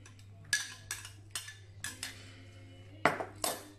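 Spoon clinking and scraping against a bowl or pot while stirring a blended garlic, onion and celery mixture, with several sharp metallic taps spaced across the clip over a steady low hum.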